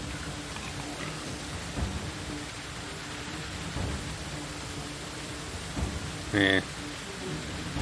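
Steady hissing rain with low rumbling fills a forest scene in the medieval survival game Medieval Dynasty, while someone talks briefly over it and a short tonal game sound cuts in near the end.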